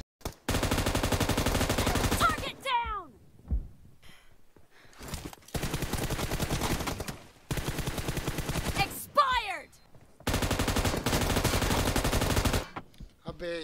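Long loud bursts of automatic gunfire in a 1v1 team deathmatch video game, three or four sustained volleys separated by short pauses with quieter game sounds between.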